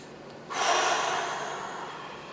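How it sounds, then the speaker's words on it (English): A person doing seated chair exercise takes a slow, deep breath, a sudden forceful, airy inhalation that starts abruptly and slowly tapers off, close and clear with no talking. "Take another slow, deep breath."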